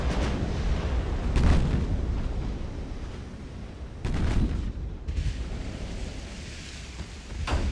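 Enemy warships firing their guns in the naval battle game Ultimate Admiral: Dreadnoughts, heavy distant booms that come a few seconds apart with a low rumble of wind between them.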